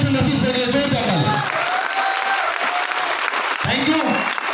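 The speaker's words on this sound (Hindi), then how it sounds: "मैं चाहूंगा जोरदार ताली से नसीब से लिए, जोरदार ताली" A crowd at a diamond celebration event bursts into loud, sustained applause and cheering that fills the room, with a voice heard over the clapping.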